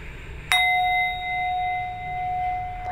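A yoga bell struck once during a breathing exercise, a clear metallic strike followed by a long, steady ringing tone that slowly fades, alone and close.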